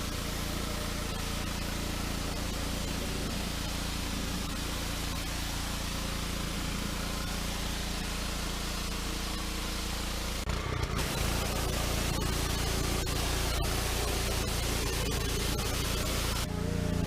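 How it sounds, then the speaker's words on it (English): Steady, loud hiss of a power washer spraying old worn porch deck boards, a continuous broadband rush that shifts slightly in tone partway through as the spray moves, with no talking. "We went through and just power washed each board"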